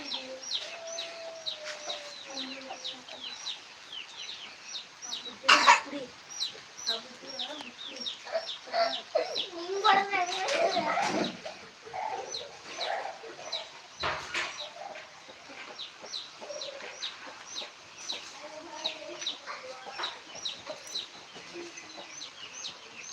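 Chickens cluck and chirp continuously, several birds close by, with a couple of louder squawks in the middle and faint background noise throughout.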